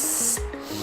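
A voice imitates an aerosol can spraying, a loud, close hiss lasting about a third of a second before dropping into low voiced tones.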